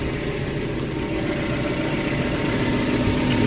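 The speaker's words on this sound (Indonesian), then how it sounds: "suara mesin halus, tidak ada noise yang aneh-aneh ya" A Suzuki Carry Futura 1.5 pickup engine idles smoothly and evenly, a steady close mid-low hum with a faint regular pulsing and no odd knocks or rattles.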